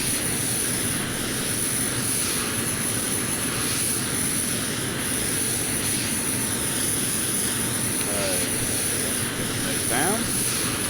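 An Iris F-22 Raptor jet climbing in Flight Simulator X, a continuous loud engine roar with a high whine, steady and unbroken, with brief faint voice fragments near the end.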